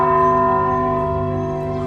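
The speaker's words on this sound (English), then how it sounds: "all day long here, you'll get to hear the church bells" Church bells ring in a Mexican street, a steady sustained peal with rich overlapping tones, loud and close, holding evenly without any talk.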